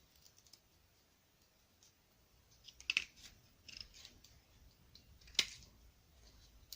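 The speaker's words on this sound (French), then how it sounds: "je vais quand même essayer de couper" Scissors cutting recycled material for a handmade notebook, quiet close snips with two sharper crisp cuts standing out, no talking.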